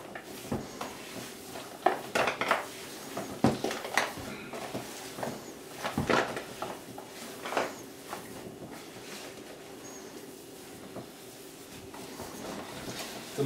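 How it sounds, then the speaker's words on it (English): Hands mixing cookie dough loaded with chocolate, Reese's Pieces, Rolos, Coffee Crisp and Kit Kat in a bowl, giving irregular clattering knocks and scrapes against the bowl, close and intermittent, with no talking. "I have to put my hands in there to mix it properly"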